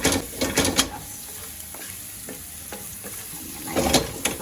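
Onions sautéing in oil for a greens-and-eggs breakfast, a close, continuous sizzle with bursts of louder crackling and stirring at the start and end.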